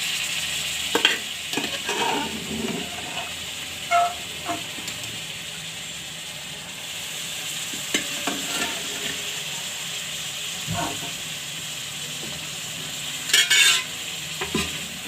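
Raw papaya being stirred into thick spiced gravy in a hot pan, with a continuous sizzling hiss and repeated scraping strokes of the spoon, near and clear with no talking.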